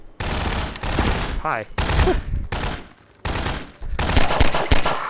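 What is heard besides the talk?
SMG gunfire in video game Half-Life 2 VR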